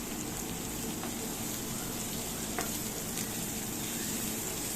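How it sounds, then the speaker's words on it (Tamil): Chopped onions being stirred and fried for mutton gravy: a steady, dense sizzle runs throughout, with a few faint scrapes of a spoon, close up and without any talking. "நறுக்கி வச்சுருக்க வெங்காயத்தை நான் இப்போ சேர்த்துக்கிறேன்"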